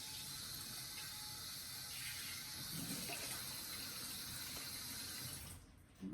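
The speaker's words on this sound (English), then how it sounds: "I'm gonna rinse this pan out a little bit." Water from a kitchen tap runs steadily and splashes into a pan that is being rinsed, close and continuous, then cuts off near the end.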